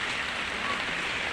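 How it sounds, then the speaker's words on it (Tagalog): Rain falls steadily on outdoor surfaces in the late afternoon as a dense, even patter and hiss with no voices. "Hinay ng ulan."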